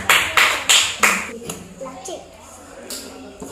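Children in a classroom give a short burst of about four loud, crisp claps, followed by a few faint scattered taps and children's voices.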